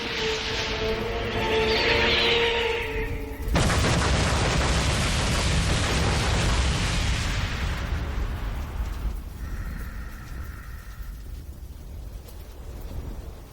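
A barrage of projectiles is fired and explodes in an animated battle, a rising whooshing tone breaking into a long, loud roaring blast that slowly fades, then a faint ringing tail, no talking.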